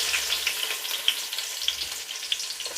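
Crushed small onions hit hot oil in a pan and sizzle with a steady crackling hiss, close and clear, with occasional sharper pops and no talking.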